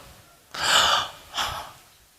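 A person imitates a gasping, struggling breath, two sharp airy inhalations, the first longer and the second shorter, close and quiet with no words.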